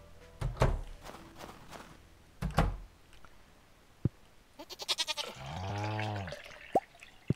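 Goat bleating while being milked in the farming video game Stardew Valley, a short wavering cartoonish bleat after a few soft thumps and clicks, with a rapid stuttering burst just before it and no talk.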